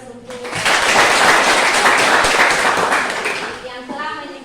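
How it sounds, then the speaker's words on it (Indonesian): A classroom of students claps together in loud, dense applause lasting about three seconds, then fades as a teacher's voice returns. "Saya lagi berikan aplaus untuk"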